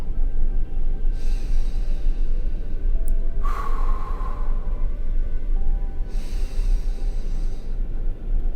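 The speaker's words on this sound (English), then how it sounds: "you're going to take a few deep breaths" Deep breaths taken during a guided relaxation meditation: three slow, airy inhales and exhales spaced a couple of seconds apart, heard over a steady low background hum.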